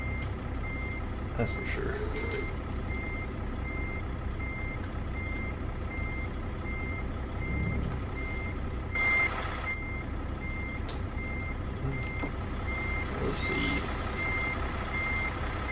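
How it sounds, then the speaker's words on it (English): A truck's backup alarm beeps steadily and repetitively over the low rumble of an idling truck engine, with a few brief words spoken and an occasional hiss of air. "I think I was telling you about the backup beeper"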